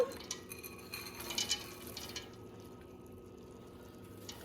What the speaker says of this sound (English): We're going to go ahead and add in our corn